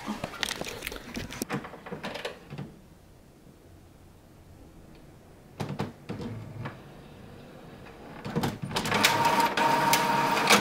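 A home printer runs a shipping label onto regular paper, with bursts of mechanical whirring and feed clatter at the start, a quiet lull, then louder sustained printing toward the end.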